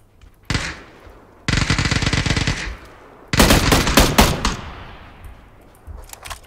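Automatic gunfire in the video game PUBG arrives in loud separate bursts, a short burst, a longer sustained stream, then a cluster of sharp shots trailing into quieter echoing fire, with no talk.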